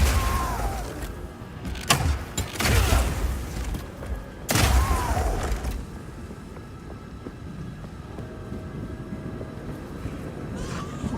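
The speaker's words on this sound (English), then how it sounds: "you can explode any grenades that happen to be on the ground" Grenades detonating on the ground in the game Path of Exile 2, a few loud, broad booming blasts near the start, each cutting sharply through a steady low rumble of battle noise that carries on afterward.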